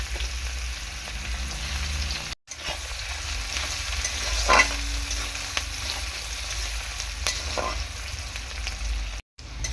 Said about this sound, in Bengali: দেখো, পেঁয়াজটা অনেকটা ভাজা হয়ে গিয়েছে, লালচে লালচে কিন্তু কালার চলে এসছে।